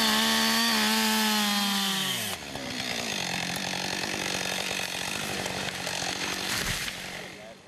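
A chainsaw at a timber harvesting class in a Vermont forest revs with a falling whine, then bites steadily into wood, loud and close, with a harsh sustained cutting roar until the end.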